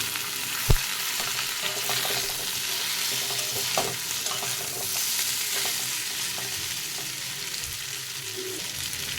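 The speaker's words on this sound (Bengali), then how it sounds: "ভেজে রাখা করলা আলু আগে থেকে ভেজে রেখেছিলাম, একটু তেল বেশি করে দিয়ে ওই সবগুলো ঢেলে দেবো" Pre-fried bitter gourd and potato pieces frying in plenty of oil: a dense, steady sizzle fills the clip, with an early sharp knock and occasional stirring scrapes close by.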